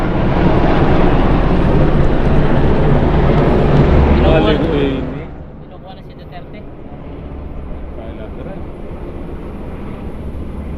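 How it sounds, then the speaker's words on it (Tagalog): Several helicopters flying overhead outdoors, a loud, continuous broadband rotor and engine roar that dominates for about five seconds and then drops away to a quieter, steady background rumble. "helicopter tatatlo yung mga helicopter oh"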